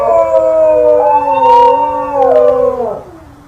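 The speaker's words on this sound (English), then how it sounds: "if you listen to a New Guinea singing dog howl," A New Guinea singing dog's long, wavering howl with several overlapping tones sliding up and down in pitch, loud and close, fading out at the end.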